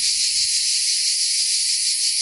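Cicadas shrill loudly and continuously in the Provence countryside near Aix-en-Provence, a dense, steady buzzing drone that fills the air without a break, with faint low rumbling underneath.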